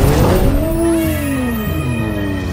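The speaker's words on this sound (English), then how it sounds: "Looks like a heavy race is happening around here." Race cars speeding past in a monster truck race, a loud close engine whine with falling pitch as they pass, tires squealing, steady and alone.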